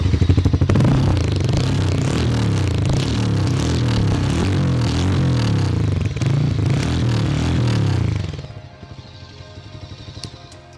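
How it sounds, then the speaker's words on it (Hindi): A Harley-Davidson X440 single-cylinder motorcycle idles and revs close by, a loud, deep, lumpy exhaust thump that holds steady for about eight seconds before the engine cuts and fades to a quiet tick. "सो एग्जॉस्ट लुक कैसा है वो आपको सुना दूं।"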